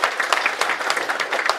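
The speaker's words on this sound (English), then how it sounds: "Let's give Jordan a big round of applause." Steady applause from a lecture audience at a university event, dense and even throughout, with no speech over it.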